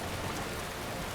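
Continuous rainfall in Skyrim, a dense, constant patter of drops that sounds near and evenly loud for the whole moment, with no voices.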